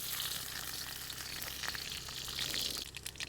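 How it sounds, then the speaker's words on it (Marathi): Mustard seeds and garlic fry in hot oil in a heated kadhai, giving a continuous faint sizzle with light crackles and a few stirring scrapes before it quiets at the end. "कढई चांगली गरम झाली तेल टाकून घेऊ थोडीशी मोहरी टाकून घ्यायची लसूण"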